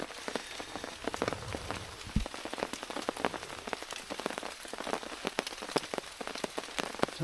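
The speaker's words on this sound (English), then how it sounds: "Oh gosh, the rain has started." Rain patters on a tarp at a wild campsite, a dense, irregular stream of close, crisp drops that continues throughout with no voices.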